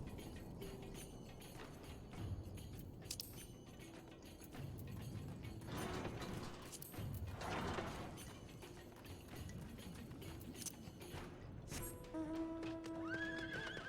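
A horse whinnies and its hooves clip-clop steadily while being ridden in the video game Final Fantasy XIV, with mechanical clicking and faint music-like tones under the sound.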